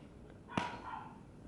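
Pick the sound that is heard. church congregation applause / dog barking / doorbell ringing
dog barking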